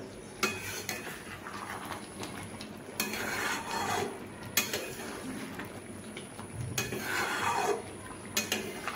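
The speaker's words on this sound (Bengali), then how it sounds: "আমি এবার আমি এর ঢাকনাটি খুলে একটু নেড়ে নেব।" Green plantain curry stirred in a metal pot, with bursts of scraping and rubbing from a spoon against the pot in several strokes over a low simmering hiss, close, and no one speaking.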